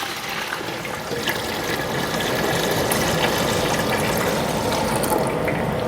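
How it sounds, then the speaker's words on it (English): Berry juice for American beauty berry jelly being poured into a big pot, a loud, continuous splashing liquid stream that grows fuller as the pour goes on. "I'll add my juice to this big pot"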